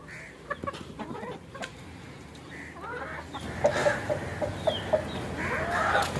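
Chickens cluck close by in short, irregular bursts, joined by other birds and scattered farmyard noise, with no talking.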